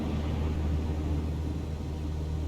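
Simulated aircraft engines in Microsoft Flight Simulator 2020 run at full throttle, producing a continuous low, heavy rumble with a rough droning texture, steady and moderately loud with nobody speaking.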